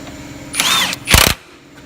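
A power drill tightening a pinch bolt, two short bursts of whirring, the second louder with a rough grinding rattle, close up.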